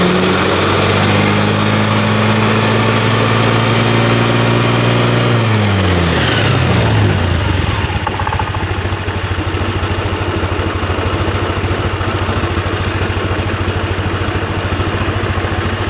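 A Honda Beat FI 2020 scooter engine runs loudly up close, holding a steady idle, then dropping and shifting in pitch before settling into a rougher, busier running drone.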